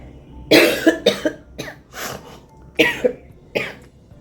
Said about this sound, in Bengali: আজকে আবার দেখছি কাশি হচ্ছে